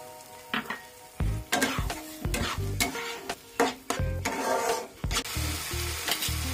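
Yogurt and cashew paste go into a pan of frying spice mix for a mushroom curry, with repeated loud scraping stirs and clanks of a spoon against the pot over a steady sizzle, close by and without talk.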